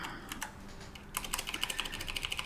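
Rapid keystrokes on a computer keyboard, light clicks starting sparse and then quickening into a steady burst of close, crisp taps, with no voices.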